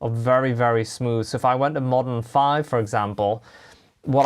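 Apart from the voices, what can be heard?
No everyday noise stands out behind the speech.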